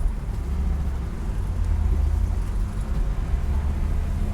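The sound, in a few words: road traffic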